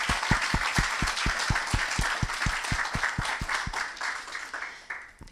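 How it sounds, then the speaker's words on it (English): An audience applauds conference panelists at a neglected tropical disease NGO network meeting, with a burst of brisk, evenly spaced clapping that fades toward the end; no voices. "a huge round of applause, please, for them"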